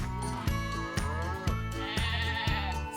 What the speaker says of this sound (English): 6 fluffy, cuddly sheep